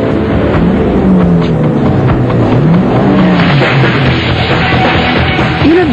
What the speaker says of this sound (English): Okay, start the engines.